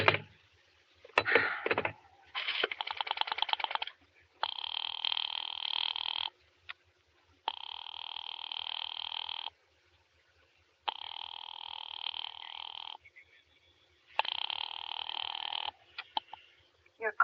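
Old-fashioned telephone effect from a radio drama: a short burst of rotary dialing clicks, then a series of long, evenly spaced ringing or busy-signal tones separated by silent gaps, clear and isolated.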